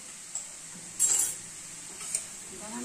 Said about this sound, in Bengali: এটাকে নেড়ে নেব। এটা আমি নেড়ে নেব।